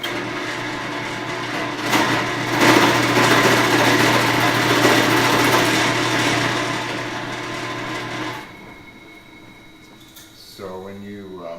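A power saw with big teeth cutting a wooden canoe inwale clamped in place, a loud, steady high-pitched whine for about eight seconds that stops abruptly, followed by quiet room sound and a brief voice.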